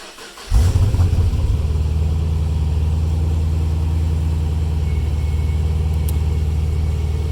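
A Pontiac G8 GT with stock headers, catalytic converters, an X-pipe and MagnaFlow mufflers cranks over and settles into a loud, steady, deep idle burble up close, running alone without talk.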